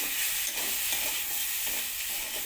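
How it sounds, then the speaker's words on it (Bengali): Vegetables such as yard-long beans, pumpkin and potato frying with ground spices, a dense, even sizzle up close with soft stirring scrapes. "গুঁড়ো মশলাগুলো দিয়ে আবারও কিছুক্ষণ ভেজে নেব"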